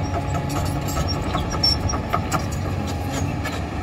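An engine revs steadily under a dense mechanical rumble and whine, loud and close, holding a fairly constant roar for several seconds without any voices.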